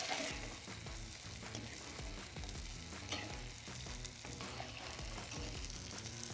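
An avoli (pomfret) coconut milk fish curry simmers in a pan, sizzling and bubbling steadily with faint clinks of a spoon, a continuous low cooking hiss with no voices.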